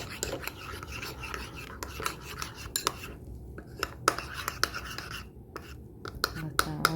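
A knife scraping and cutting the peel off an apple, with irregular close clicks and scrapes against a plate, a faint voice murmuring at times.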